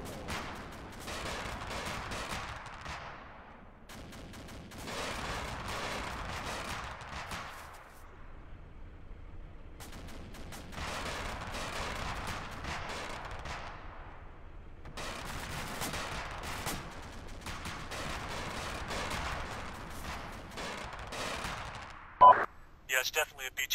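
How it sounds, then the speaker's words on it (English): A BTR-90 armored vehicle's autocannon fires in a military video game, in several long, rapid bursts separated by short pauses and heard at some distance, while people talk over the shooting. "Got something with an autocannon to the west-northwest."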